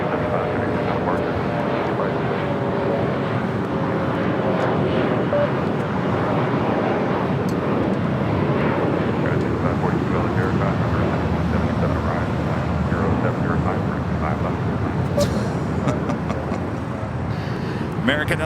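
A jet airliner at LAX, an American Airlines A321neo taking off, roars steadily for the whole stretch, broad and sustained, with a muffled voice faintly under the engine noise.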